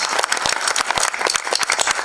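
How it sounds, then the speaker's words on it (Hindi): Audience applause at a film trailer launch event, loud and close, a dense flurry of claps with some individual hits standing out. "जोरदार तालियां for ladies and for his parents who have made it here"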